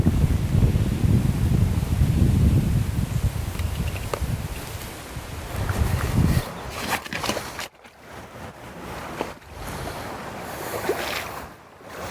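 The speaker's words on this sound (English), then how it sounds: "the wind's blowing and it's cold, we're still outdoors fishing" Steady wind gusting outdoors beside the Catawba River while fishing on a cold day, a loud rumbling buffet for the first six seconds that drops to softer, intermittent gusts and rustle afterward, with no talking.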